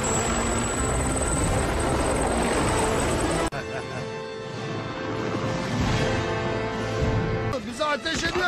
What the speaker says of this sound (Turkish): Burada bir helikopter var.